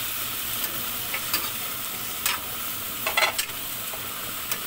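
Vegetables cooking in a pan without salt sizzle steadily, with a few scraping stir strokes of a utensil against the pan, close and fairly soft.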